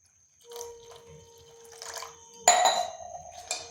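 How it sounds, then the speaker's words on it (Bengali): Flattened rice (chira) is washed in a bowl of water, giving soft close sloshing and splashing that rises in a stronger burst midway, alone without speech. "চিড়াটাকে আমি খুব ভালো করে 3-4 বার ধুয়ে নিচ্ছি।"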